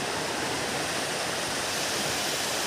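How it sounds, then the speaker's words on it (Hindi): The Tim Langpong waterfall at Longnit in Karbi Anglong roars as a dense, steady rush of falling water, loud and close, filling the whole clip with no voices. "ऊपर में भी एक वाटरफॉल है"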